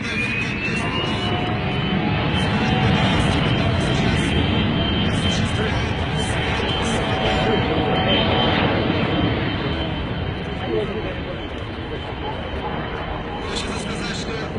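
A Beriev T-130 amphibious aircraft drones steadily on the water with a loud continuous engine roar and broad rushing noise. The sound stays close and sustained throughout while a voice talks over it.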